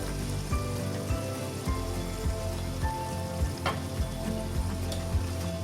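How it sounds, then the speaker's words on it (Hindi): Spices with yogurt just added fry in a pan, a steady close sizzle with soft stirring scrapes and occasional clinks. "थोड़ा सा भूनेंगे सब मसालों को। अब मैं इसमें दही शामिल कर दूंगी।"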